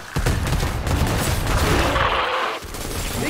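Gunfire in the Predator: Hunting Grounds video game, a dense sustained burst of rapid shots running through nearly the whole stretch with a brief dip near the end.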